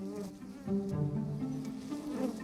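Bees buzz steadily around a garden beehive being smoked, a dense, continuous low hum of many insects close by, with no talking over it.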